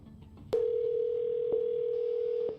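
A telephone dial tone: a sharp click, then a loud, steady, unbroken tone that holds for about two seconds before cutting off, with faint background noise underneath.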